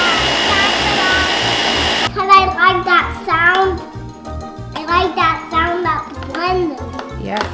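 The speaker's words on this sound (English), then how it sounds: "I like that sound that the blender makes" A kitchen blender whirs loudly for about two seconds, then cuts off, and a child and an adult chat afterward.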